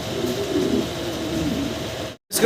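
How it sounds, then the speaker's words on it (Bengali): A pair of fantail pigeons coo close by in a low, continuous rolling murmur that breaks off briefly near the end. "দর্শক আমরা দেখতেছি ভাইয়ের কাছে আছে ফ্যান্টাল কবুতর এখানে একটা জোড়া"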